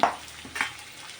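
River fish sizzles as it is sautéed with salt in a pan, with a soft frying hiss and a couple of brief stirring scrapes, close and without talk.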